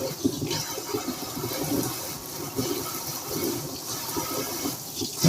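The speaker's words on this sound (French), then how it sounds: "je vais mettre un peu d'eau tiède, juste tiède" Lukewarm water poured over sprouting seeds, a steady trickling and splashing wash that runs continuously for several seconds at moderate loudness, with no voices.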